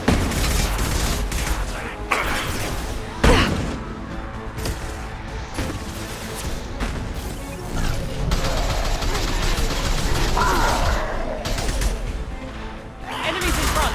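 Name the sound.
gunfire in video game Mass Effect 2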